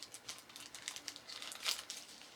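Quiet, close crinkling of a small plastic bag, irregular soft rustles and crackles repeating throughout with no voices.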